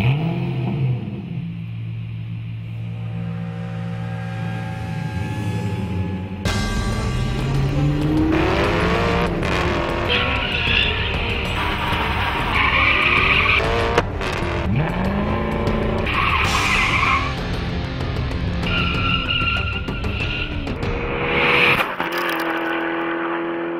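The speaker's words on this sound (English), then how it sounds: "it's an Italian supercar, and that means a Ferrari-based V8 engine making 450 horsepower" An Alfa Romeo 8C Italian supercar with a Ferrari-based 450-horsepower V8 idles, then accelerates hard, its engine rising and falling through gear changes with tire squeal, loud and close for the whole stretch.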